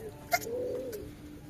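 A newly caught pigeon gives a single soft, low coo, close by, with a brief rustle just before it in an otherwise quiet space.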